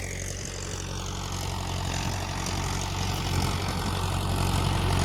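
A Mahindra Yuvo 575 tractor pulls a plough through a field, its diesel engine giving a steady low drone that holds even throughout, close and fairly loud with a rushing, windy edge.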